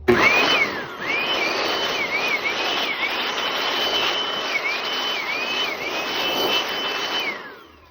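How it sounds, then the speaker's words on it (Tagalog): A Lotus electric blower blasts dust out of a very dirty Hanabishi stand fan being repaired. The loud, close, continuous whine rises and wavers as the airflow shifts, then trails off at the end. "gamitan natin ang Lotus Blower"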